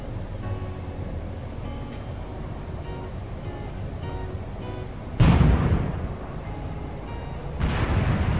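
Mortar rounds landing in the Graviteam Tactics strategy war game, with two heavy explosion blasts a couple of seconds apart breaking over a steady low battlefield rumble.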